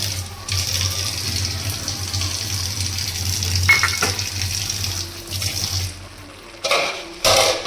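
Water runs steadily into a bowl of ground poppy seeds, a continuous close splashing trickle that stops near the end, followed by a few short knocks and rustles.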